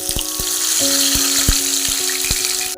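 Fish fries in a pan with a steady, close, hissing sizzle, while faint musical tones and light knocks sound underneath.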